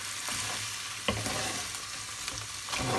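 Crab curry stirred in a pan, a steady broadband sizzle with a few louder scraping strokes of the spoon against the pan, close and alone with no talk.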